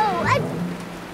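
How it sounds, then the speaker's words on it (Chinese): Rain begins in a children's Halloween cartoon set in a magic forest, a steady hiss of falling drops that follows a brief swooping tonal cartoon sound at the start. "开始下雨了。"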